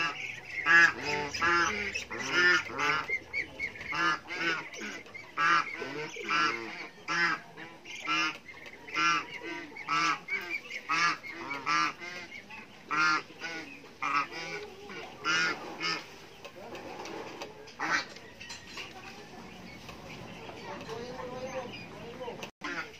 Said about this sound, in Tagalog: mukhang nagcha-challenge pa yung mga ganso dito, oh